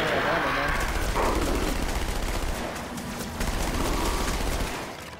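SMG gunfire in a video game: dense, rapid bursts of shots with heavy booming impacts, loud and continuous, with voices talking over the shooting.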